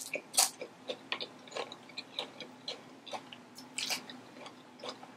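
Crunchy loaded nachos topped with cilantro, jalapeño and onions are bitten and chewed close to the mic, with repeated crisp crunches coming in an irregular rhythm and no talking.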